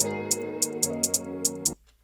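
A drill beat with sliding bass and steady hi-hats, broken up by several loud, sharp snare hits scattered off the main pulse, then cutting off abruptly.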